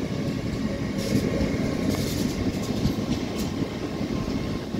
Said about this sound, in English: Hall trains arriving here at Doncaster station